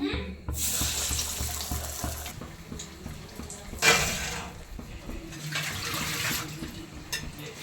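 Masala vada (ambode) fry in hot oil, making a continuous bubbling hiss that swells in waves, with a brief louder burst partway through as more batter goes in, and no talking.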